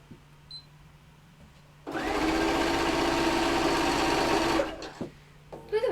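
A domestic sewing machine stitching through a piece of scrap fabric runs in one steady, loud burst of rapid mechanical whirring for a few seconds, starting and stopping abruptly with quiet handling noise around it.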